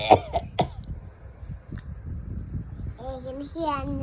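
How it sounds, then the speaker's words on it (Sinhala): A person coughs and clears their throat a few times in short, sharp bursts at the start, followed by quiet and then speech. "මට කැස්ස වගේ."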